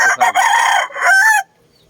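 A fighting rooster (gamecock) gives a loud, close crow lasting over a second and ending abruptly, followed by near silence.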